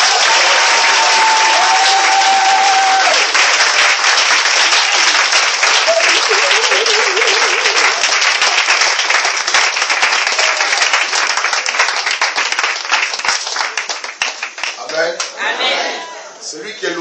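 A church congregation at a prayer centre applauds, a loud, dense, sustained burst of clapping from many hands close around, thinning out near the end as voices rise under it.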